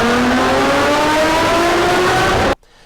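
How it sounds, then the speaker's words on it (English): A Ferrari 458 Speciale with a 6-litre, 661-horsepower V12 revs loud and close, its rising, howling engine note building steadily for over two seconds before cutting off abruptly into near silence. "How do you describe a 6-litre V12 that produces 661 horsepower and sounds like this?"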